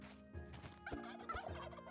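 Turkeys gobble in the video game Travellers Rest, a string of quick, warbling gobbles and clucks repeating over about two seconds, faint overall with no voices.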